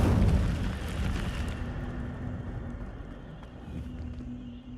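Incendio fire spell from the video game Hogwarts Legacy: a loud, steady roaring whoosh of flame with a deep rumble, strongest at the start and easing slightly over the next few seconds.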